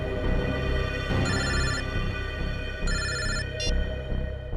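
A telephone rings with an incoming call in three electronic bursts, the last very short, over a steady low background bed in a CID crime drama scene.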